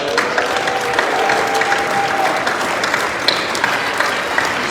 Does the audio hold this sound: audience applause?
yes